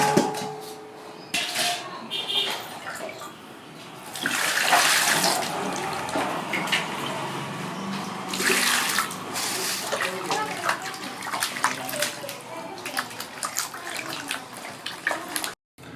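Raw green mango is rinsed under a running kitchen tap, with a steady close rush and splash of water that swells and eases as the fruit is handled.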